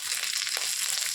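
Whole spices — cinnamon, cloves and bay leaf — crackling and frying in hot oil in a kadai for chicken biryani, a steady close hiss throughout with no voices.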